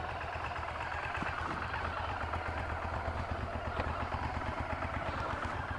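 A Honda VTR1000 Firestorm motorcycle idles steadily at a low, even throb, the engine note continuous and fairly quiet with no revving, heard outdoors in Japan.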